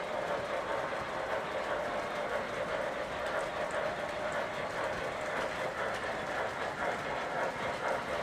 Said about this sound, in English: Salty, we're running all MTH tonight